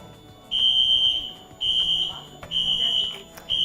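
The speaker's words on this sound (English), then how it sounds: "So as you can hear the alarm going off," A shrill electronic fire alarm, pulled during a building inspection test, sounds in repeated long beeps, loud and piercing, with short gaps between each tone.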